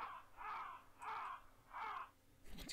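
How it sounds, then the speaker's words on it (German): Vulture cries in the adventure game Runaway: A Road Adventure, three harsh, raspy caws in an even rhythm, fairly faint and alone, followed by a short rustle at the end. "Geiergeräusche."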